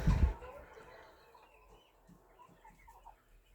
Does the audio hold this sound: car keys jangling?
no